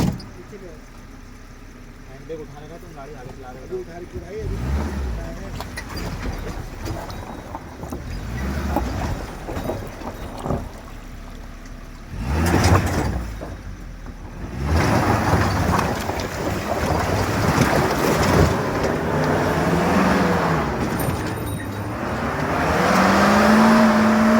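A jeep engine strains while stuck trying to climb an uphill forest track in Uttarakhand, with a rough, surging roar that grows louder toward the end and voices mixed in.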